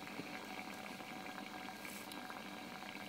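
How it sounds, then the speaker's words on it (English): Water heating and bubbling around carbon fiber HHO electrodes driven by about 5 to 7.5 amps of current, a steady close fizzing boil with a faint patter throughout and no talk. "That is literally heating the water with all the current that's flowing."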